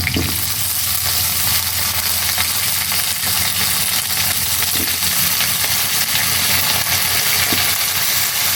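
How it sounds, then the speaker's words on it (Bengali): Fish frying in a pan with oil, a steady loud sizzle and crackle running unbroken throughout, with occasional stirring noises and no talking. "মাছগুলোকে একটু ভেজে নেব"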